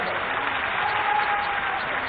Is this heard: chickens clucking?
no